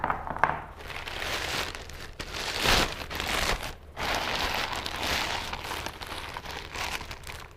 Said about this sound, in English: I always just choke up on the wire tool and cut through.